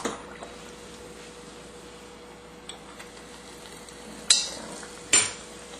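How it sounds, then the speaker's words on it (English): A faint, steady sizzle of batter frying in a pan, with a few sharp clinks of a utensil near the end. "continue to fry up the rest of your batter"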